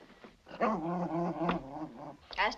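A dog growls low and steadily, close and fairly loud, rising into a brief whine near the end.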